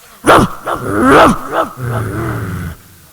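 A human voice imitating a dog barking on stage, loud close barks and growls in several bursts followed by a sustained growling howl.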